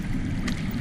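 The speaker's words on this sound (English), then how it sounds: "That's water. I hear water. From underground." Water flows underground in a Game of Thrones Telltale video game, a low continuous rushing murmur held briefly and fairly loud.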